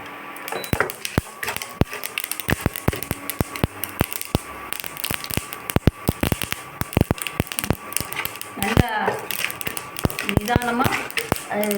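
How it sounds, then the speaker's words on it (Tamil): Urad dal and cashews fry in oil over a low flame, giving a dense, continuous crackle and sharp popping bursts throughout, with a person talking over the sizzle. "சிம்மில் வச்சு நல்லா உளுந்தும் முந்திரியும் நல்லா ஒரு கோல்டன் கலர் வர்ற மாதிரி செஞ்சாச்சு"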